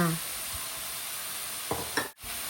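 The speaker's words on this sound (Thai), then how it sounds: "ผัดให้ทุกอย่างสุกเข้ากันดี" Minced pork with garlic and pepper stir-frying in a pan, with a steady sizzle and a few scraping stir strokes toward the end, close and moderately loud.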